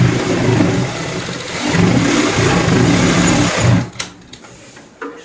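A sewing machine stitches a cushion cover, running steadily and loudly for nearly four seconds before stopping, followed by a few faint clicks and handling knocks.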